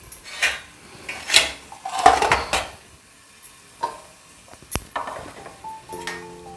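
Tomatoes sautéed with onions in a pan for paneer bhurji, a spatula scraping and tapping against the pan in irregular bursts, with clinks of utensils and brief pauses between strokes.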